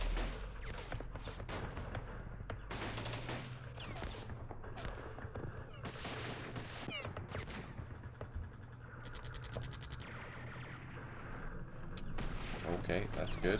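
Mortar and artillery fire in the Vietnam War game Campaign Series Vietnam, Operation Starlite: a steady run of loud thuds and cracking blasts, with bursts of rapid gunfire mixed in, continuing throughout at close range.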